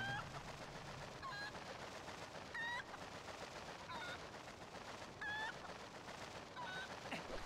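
A travel chicken in a video game clucks in short, evenly spaced bursts, roughly every second and a half, over a steady background of game noise.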